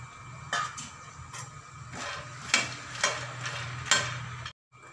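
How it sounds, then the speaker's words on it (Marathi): Peanuts roasting in a pan for masala makhana, with soft scraping and stirring strokes rattling the nuts at an irregular pace over a faint sizzle, close and quiet, ending abruptly. "आणि शेंगदाण्याचे खरपूस अशी भाजून घ्यायची"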